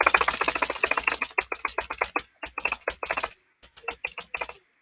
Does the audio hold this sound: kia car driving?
no